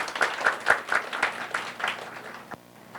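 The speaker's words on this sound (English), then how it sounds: "Can we have a big round of applause for welcome?" A small group of doctors at a hospital training session claps in welcome, a short round of distinct individual claps that fades out after a couple of seconds.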